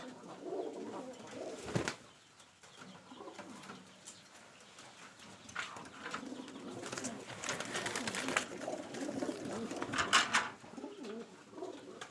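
Rajshahi Giribaj pigeons coo in soft, repeated throaty phrases close at hand, with occasional wing flaps and rustling among them.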